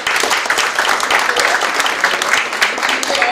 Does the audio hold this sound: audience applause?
yes